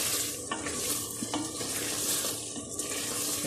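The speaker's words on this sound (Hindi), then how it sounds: "अब मैं लोबिया डालने लगी हूँ।" Black-eyed beans are stirred into chicken frying in a pan, giving a steady close hiss of sizzling broken by a few sharp scraping stirs, with no talking.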